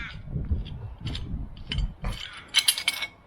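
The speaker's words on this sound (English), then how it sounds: "Clamp the pin and turn anti-clockwise." Mini-mover clamp screw being turned anti-clockwise by hand, its thread withdrawing from a welded nut at the rear of a caravan, giving close, irregular metallic clicks and ratcheting rattles in short bursts.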